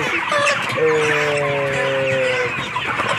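Broiler chickens on a farm cluck and cackle loudly and close up. One drawn-out, tonal squawk stands out above a dense, continuous flock chatter.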